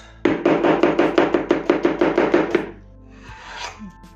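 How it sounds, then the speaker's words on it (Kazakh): A knife chopping onion on a cutting board for a pilaf, about a dozen quick, evenly spaced sharp thuds in a rapid run, loud and close, followed by a faint rustle. "жуанды да турап саламыз."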